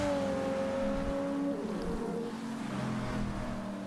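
Racing car in a racing video game, drifting through a turn with a steady loud engine drone and shifting pitch, continuous over about four seconds with no talk.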